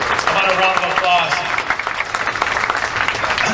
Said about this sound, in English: Peter Fisher, how about a round of applause?